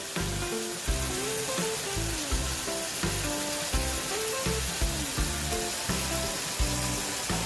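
Jerk-seasoned pork chunks sizzle in a pan with Cool Runnings jerk seasoning, a loud continuous frying hiss with faint stepped musical tones running underneath.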